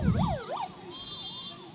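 An ambulance siren wails from a vehicle stuck in a traffic jam at a protest, sweeping up and down twice, then shifting to a softer, steady high tone. Low engine noise sits underneath.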